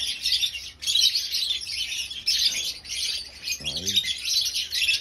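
African lovebirds of dun fallow, pale fallow and bronze fallow mutations in a small aviary chatter with dense, shrill chirps and tweets, nearly continuous and close, with a brief lower call near the end.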